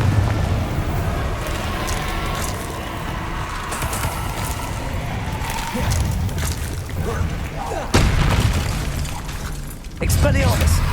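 Confringo spell explosions in Hogwarts Legacy burst out in several booming hits over a busy combat soundscape, with a voice calling out during the fight.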